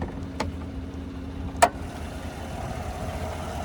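A 2017 Chevrolet Tahoe Premier's 5.3-liter naturally aspirated V8 idles steadily with a low, even hum, heard with the hood open, broken by a couple of brief sharp clicks or knocks.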